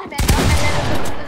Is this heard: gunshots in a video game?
yes